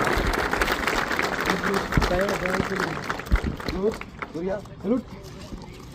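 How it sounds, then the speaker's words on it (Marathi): An audience applauds for Surya, a police bomb-detection squad dog, at a Satara police duty meet. Broadband clapping washes over the first half while an announcer speaks over it. "सर्वांनी आवर्जून परत एकदा जोरात टाळ्या वाजवायचे आपल्या शॉन सूर्यासाठी."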